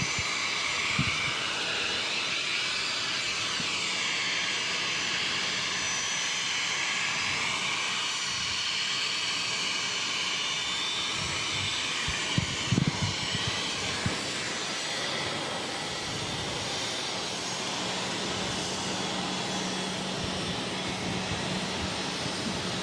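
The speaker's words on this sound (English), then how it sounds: "Give a Delta 767 about to touch down on 22 left." A Delta Boeing 767 jet comes in to land on runway 22 left at Boston Logan airport, a steady broadband engine roar and hiss heard from a distance that holds for the whole stretch, with other airport noise faintly behind it.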